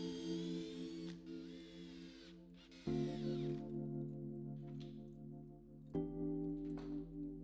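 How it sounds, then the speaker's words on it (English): A power drill with a countersink bit whines in three short bursts, spinning up and winding down as it pre-drills holes in wood, close by and clear with no talk. "used a countersink bit to pre-drill a couple holes before driving in the screws."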